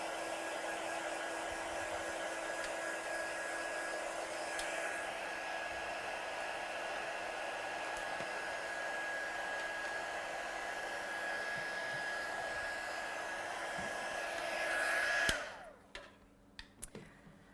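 A heat tool blows steadily to dry freshly stamped black ink on paper, a loud continuous whooshing hum lasting most of the time before it switches off and leaves a few faint clicks.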